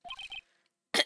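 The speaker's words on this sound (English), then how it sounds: "Maybe I should clear my throat?" A single short throat-clearing sound effect from Phoenix Wright: Ace Attorney, a loud, close, gruff burst following a few soft, rhythmic dialogue-text blips and a moment of silence.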